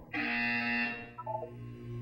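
A buzzer in the game Portal 2 sounds once as a harsh, loud electronic tone that holds about a second before dropping into a quieter, wavering tail.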